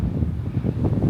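Wind buffeting a microphone on an exposed hilltop in the Australian countryside, a steady low rumbling roar with gusty fluctuations, no voices.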